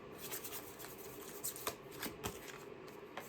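Tarot cards being shuffled by hand, a steady run of soft papery riffles and flicks with a few sharper snaps, close and fairly quiet with no voice over it.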